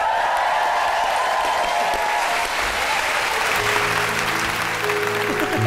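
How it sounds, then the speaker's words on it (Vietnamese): An audience applauds steadily at a televised music show, a dense wash of clapping that stays loud throughout. Faint instrumental music begins to come in under the applause toward the end. "Một tràng pháo tay"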